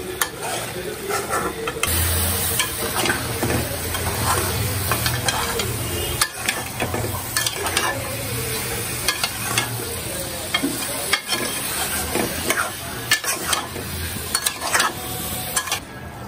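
Fish sizzling and frying in a pan with steady crackle and occasional stirring or utensil scrapes, close and continuous for the whole stretch.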